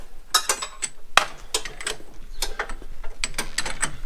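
A ratchet clicks in quick, irregular bursts while nuts are worked loose on the driveshaft of a Citroen Dyane, close and fairly loud, with metallic ticks scattered across four seconds and no talking.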